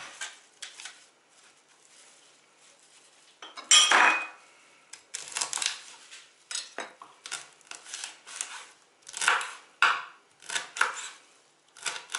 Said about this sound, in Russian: Нам еще надо нарезать мяту.